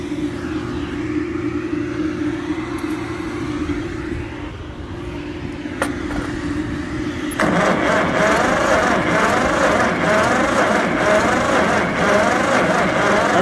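A John Deere 40 tractor engine, revived after sitting for years, runs at idle with a steady low rumble, then grows noticeably louder and rougher about halfway through as the throttle comes up.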